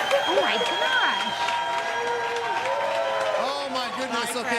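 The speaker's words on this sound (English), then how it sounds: "can you just listen to this crowd here?" A live crowd at Sundial Beach Resort on Sanibel Island, Florida, cheers and claps in a continuous loud roar, with whoops and shouts rising over steady applause and voices mixed in.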